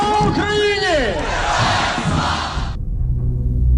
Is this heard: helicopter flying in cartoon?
no